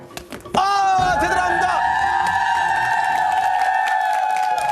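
A Korean TV studio audience bursts into loud applause and cheering after a blindfolded sword-cutting feat, with sustained crowd roar and a tonal sound effect ringing over it.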